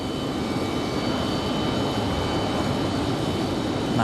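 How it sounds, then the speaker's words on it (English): A United Express plane lands on the runway at Raleigh-Durham airport, a steady broadband roar of engine and rushing air holding constant throughout, distant and unbroken. "Nice touchdown for the United Express."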